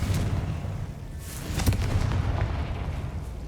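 A fiery Confringo spell blast in the Hogwarts Legacy video game, heard as a booming explosive burst with crackling impacts over a heavy low rumble of combat, with no speech.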